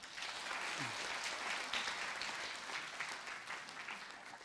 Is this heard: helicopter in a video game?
no